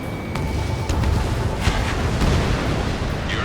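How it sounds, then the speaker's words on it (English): Missile launch and explosion in the jet combat game Ace Combat 7, heard as a dense, loud rumble with several sharp blasts and bursts layered over continuous roaring engine noise. "Strider 1, missile launched."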